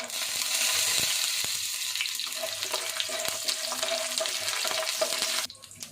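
Urad dal and peanuts sizzling in hot oil in a pan for curry leaf rice, a continuous close crackling fry with stirring, cutting off abruptly near the end.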